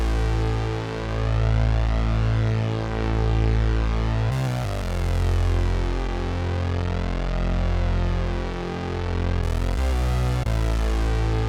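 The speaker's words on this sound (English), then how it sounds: "I used the Behringer Poly D to make this bass sound" Behringer Poly D analog synthesizer playing a bass line that stays mostly on chord root notes, steady and sustained with held notes shifting pitch, loud and alone with no talking.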